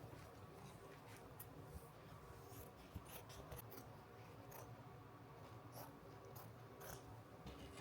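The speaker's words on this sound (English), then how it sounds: "This definitely does not feel like tear away. This feels like cut away. So let's cut it away." Scissors snip through embroidery stabilizer on a quilt panel, a run of faint, close, intermittent cuts and rustles with no talking.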